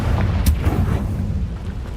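A Confringo blasting spell goes off in Hogwarts Legacy: one sharp explosive burst near the start, then a deep rumbling boom that fades out over the remaining moments.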